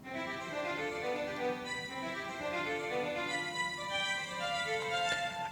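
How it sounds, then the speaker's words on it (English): Software-generated broken-chord melody from Calmus, a steady stream of overlapping tones with arpeggiated notes, continuous and moderately quiet, with no voices. "we can drag a melody here, a broken melody, and it sounds like this"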